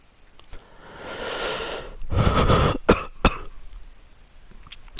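Several harsh coughs and throat clearing from one person close to the microphone, a long rough burst followed by two or three sharp separate coughs, with no talk over them.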